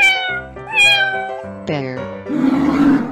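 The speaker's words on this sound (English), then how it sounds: "cat" A cat sound effect gives several distinct, close meows in quick succession, ending in a breathy, hissing tail.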